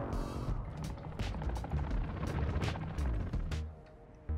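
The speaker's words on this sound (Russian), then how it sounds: "И вот это что сейчас за вертушка была?" A helicopter in Call of Duty hovers with a steady low rotor thump under rapid, repeated bursts of sharp clicks and mechanical noise. The sound is moderately loud and close throughout, then drops off briefly near the end.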